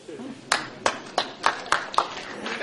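Several distinct hand claps from an audience member at a training seminar, about six sharp slaps spaced roughly a third of a second apart, fairly close, over low background murmur.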